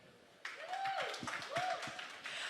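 An audience at the launch of a new Amazon Prime show breaks into applause, a burst of scattered hand claps rising suddenly and continuing through the clip, with a tonal whoop or voice sliding over the clapping.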